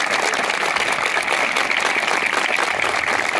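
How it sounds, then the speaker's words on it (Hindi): A school audience applauds to welcome a guest at an International Day of Persons with Disabilities event, producing a steady, continuous wash of many hands clapping at even loudness, with no voices above it. "एक बार तालियों के साथ सर का स्वागत करेंगे।"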